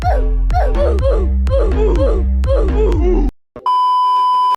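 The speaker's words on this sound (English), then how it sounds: "I'm gonna have to bleep that out" A censor bleep sounds as a loud, steady electronic tone lasting about a second. It follows several seconds of rhythmic, processed voice-like bursts, and a brief silence separates the two.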